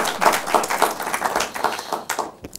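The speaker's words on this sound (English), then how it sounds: "a round of applause for the contestants once again" Audience at a university law quiz contest between University of Professional Studies and Central University claps for the contestants, scattered individual hand claps at close range that thin out and fade within a couple of seconds.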